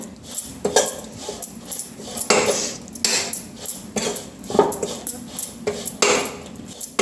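Coconut roasting in ghee in a pan over low heat, stirred with repeated metallic scrapes and clinks of a spatula against the pan at an uneven rhythm, close and fairly loud, with no talking.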